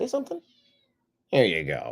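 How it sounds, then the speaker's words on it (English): A pet cat meows insistently at close range in an indoor room, a drawn-out, wavering call that follows a man's brief spoken coaxing. "My cat is joining me for today's show."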